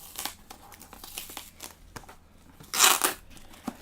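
A heavily taped mailer package is torn open by hand: a run of crinkly ripping and crumpling bursts, close and fairly loud, with one long, harsh tear standing out near the end.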